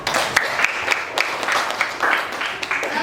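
Classroom applause for a student group presenting at a vocational high school, a burst of many hands clapping with uneven sharp claps throughout, loud and close, without talk.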